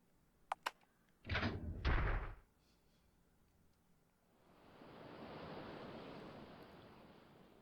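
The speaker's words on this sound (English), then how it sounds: "You heard water running." Water runs steadily in The Witch's House, rising as a soft hissing rush that fills the second half. A few quiet clicks and a short muffled thump come before it.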